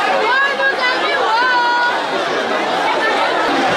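A surging crowd eulogizing an arriving chief at a traditional gathering, a dense, loud babble of many voices chanting and calling out together throughout, close and continuous.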